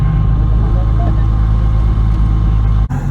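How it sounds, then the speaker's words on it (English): Supercharged V6 Toyota MR2 SW20 roaring loudly at an autocross event, a dense steady engine drone with strong low rumble throughout, cutting off abruptly near the end. "One of my concerns was the car would be too loud, and it definitely was."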